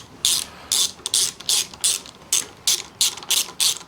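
Zip ties are ratcheted tight on motorcycle cables on a '92 Evo Sportster, giving nine or ten crisp, close zipping bursts in a steady, quick rhythm.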